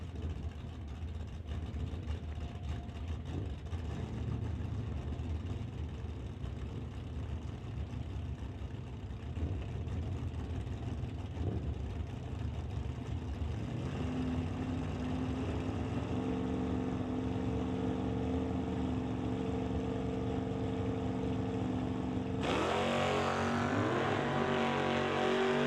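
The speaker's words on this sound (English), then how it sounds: "The Johnson's custom exhaust wagon going up against Buick's Nova out of Mission." Drag racing cars at an NHRA Summit ET bracket event, a custom-exhaust wagon against a Nova, rumble and drone steadily from a distance. Engine tones rise as they accelerate, and a louder, brighter roar takes over near the end.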